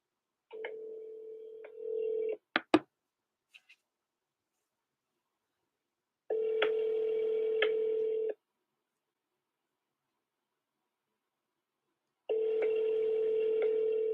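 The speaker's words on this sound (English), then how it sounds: "So I'm going to give him a call right now." Outgoing phone call: a dial tone cut by quick keypad dialing beeps, then repeated long ringback tones separated by several seconds of silence.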